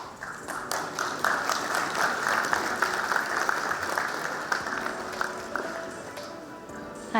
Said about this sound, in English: Let's have a bigger round of applause for them, please.